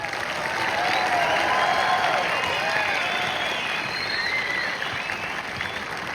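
Sustained, loud audience applause fills a concert hall at the Palace of Arts after a Medstars team performance. The clapping is steady throughout, with scattered cheers and whistles over it.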